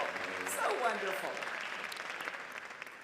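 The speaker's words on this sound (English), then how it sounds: "I think they deserve one more round of applause" An audience at a San José civic celebration applauds, the clapping swelling near the start and then easing off, with a voice speaking over it at the beginning.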